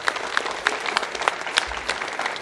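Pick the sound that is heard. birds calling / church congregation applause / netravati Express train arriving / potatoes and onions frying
church congregation applause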